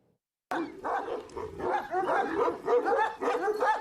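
Kangal dogs bark in a run of loud, close barks and yips that begin abruptly and continue in quick succession, filling the clip.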